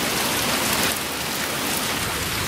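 Steady, dense rain patters continuously on a sailboat, a loud even hiss of drops with no voices.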